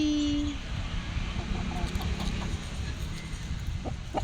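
Chickens clucking and squabbling close by, with steady low rumbling background noise and a few short sharp calls over about four seconds.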